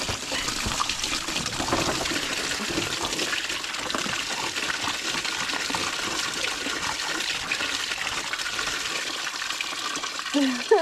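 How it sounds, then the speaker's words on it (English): Coolant gushing from a disconnected radiator hose on a Jeep YJ: a loud, steady, close rush of pouring liquid that lasts throughout, with a brief splash near the end. "We're gonna disconnect the little radiator hose"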